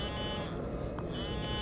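A text message notification chimes in the Blair Witch VR game: two short bursts of bright, buzzy, tonal beeping, one at the start and one near the end, with a faint low background between them.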